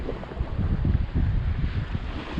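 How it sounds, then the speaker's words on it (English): Steady wind buffets the microphone at a beach while surf fishing, a continuous low rumble of gusts rising and falling over faint wave wash, with no voices. "The wind's coming that way"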